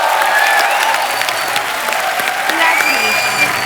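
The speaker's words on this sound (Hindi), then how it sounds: "तालियां।" Studio audience on a Hindi comedy talk show, The Kapil Sharma Show, clapping in steady, dense applause that fills the room at an even loudness, with faint cheers and voices underneath.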